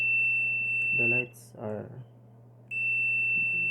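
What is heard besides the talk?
multimeter continuity buzzer beeping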